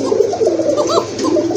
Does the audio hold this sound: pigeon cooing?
yes